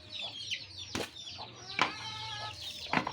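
Backyard pet chickens cluck just after being let out of their enclosure, with a run of close, repeated calls broken by a few sharp thumps like flapping wings or scuffling.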